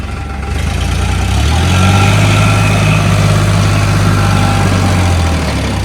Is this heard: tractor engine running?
yes